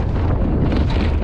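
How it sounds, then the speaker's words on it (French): Wind gusts roar steadily across the microphone in the Wadi Rum desert of Jordan, a dense, close buffeting rush with no voices over it. "vent se lève"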